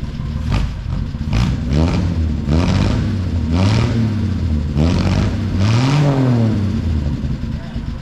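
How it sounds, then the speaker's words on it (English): A classic Land Rover engine revs repeatedly, rising and falling in pitch with a deep exhaust rumble, close and loud, with some talk underneath. "Sounds like a Land Rover. Can you get exhaust sound?"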